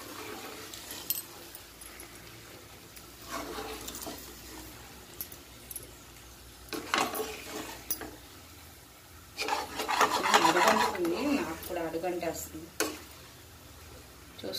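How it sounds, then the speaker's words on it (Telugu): Stuffed eggplants being turned slowly in a frying pan: a continuous soft sizzle with intermittent rasping scrapes of the spatula, growing louder and busier toward the end. "నేను చాలా స్లోగా తిప్పుతున్నాను"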